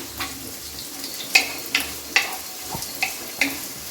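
Crushed garlic and curry leaves frying in hot oil for a fish curry, a soft continuous sizzle broken by several sharp spatula scrapes and taps against the pan at irregular intervals.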